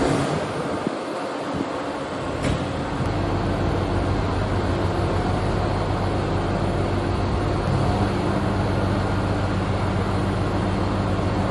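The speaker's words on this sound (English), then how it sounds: "I would get the tractor out" A farm tractor engine runs steadily near the microphone while working a wheat field, giving a loud, unbroken droning rumble with a low humming tone and no speech.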